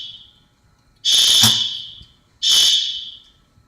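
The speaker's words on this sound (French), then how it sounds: "l'alarme de feu, ça" Two loud, shrill electronic bursts from a fire alarm, each about a second long and fading out, separated by a short silence in an industrial space with reciprocating compressors.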